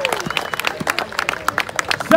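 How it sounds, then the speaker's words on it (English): A brief round of scattered clapping from a crowd at a GeekFest cosplay competition for the third-place winner, uneven and moderately close, with voices mixed in. "another little third place round of applause"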